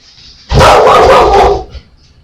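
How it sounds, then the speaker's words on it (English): Several dogs barking loudly and close in a dense burst lasting about a second, then fading into quiet yips, heard apart from the talk of a video game session. "And sorry, that's my dogs."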